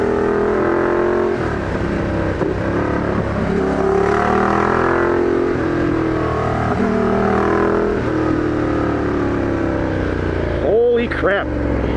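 A vehicle climbing a road of loose gravel and sand, its engine humming steadily and changing pitch as it pulls uphill, with crunch and road noise throughout and voices talking over it.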